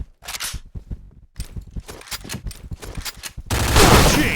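Rapid bursts of gunfire from a shooting video game, volleys of close, sharp shots in quick succession, ending in a louder sustained blast of noise.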